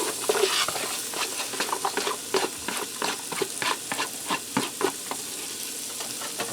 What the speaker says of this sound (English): I'm going to saute this in butter and oil for a few minutes till the onions start to soften up.